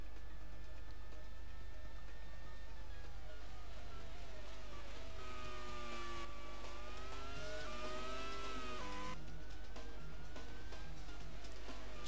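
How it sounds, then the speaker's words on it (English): Formula 1 race car on a quick lap in a racing video game, its high engine whine rising and falling through gear changes and corners, with a steady low drone underneath. "There's Rosberg on a quick lap."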